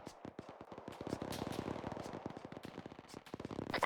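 A machine gun on an Mi-8 helicopter in a video game fires long rapid bursts of sharp cracks, fairly distant and steady, with a louder pop at the end.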